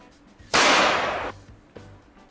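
A firearm goes off late after a hang fire, giving one loud sharp blast with a sustained rushing roar that fades over about a second, followed by a smaller knock; close and forceful.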